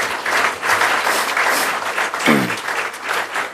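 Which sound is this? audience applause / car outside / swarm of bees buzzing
audience applause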